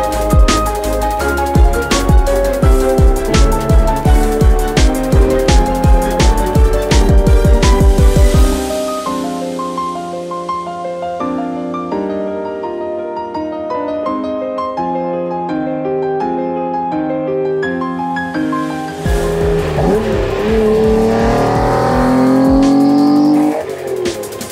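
A Honda NSX fitted with Toda individual throttle bodies rips through loud, sharp revs that climb hard and then cut off. A sustained high engine wail follows, rising again toward the end, with no talking.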